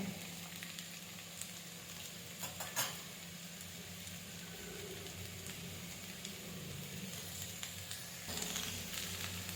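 Egg and cabbage palya frying in a pan gives off a steady, even sizzle that runs unbroken throughout, with a faint brief clatter near the start and a slight swell toward the end.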